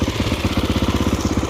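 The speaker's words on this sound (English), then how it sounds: "Even though it's an air-cooled engine, this thing has power." A Honda XR400 motorcycle's air-cooled engine running steadily close by, a loud, even rapid thumping pulse with no talking.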